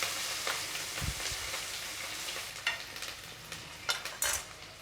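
Big onion frying in hot oil with curry leaves and green chili, a steady close sizzle with a few scraping stirs of a spoon against the pan, no talking.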